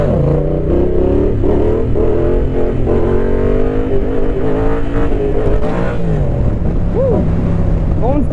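A Yamaha Tracer 700 motorcycle engine runs at low riding speed, a close, steady rumble with small throttle changes throughout, heard under wind noise without pauses.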